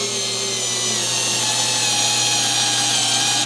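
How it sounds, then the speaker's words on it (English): A steady, loud motor whine from a SKIL 4V Pivot Grip cordless screwdriver driving screws into wood runs continuously for a few seconds, then cuts off abruptly at the end. "Let's go ahead and practice putting some screws in."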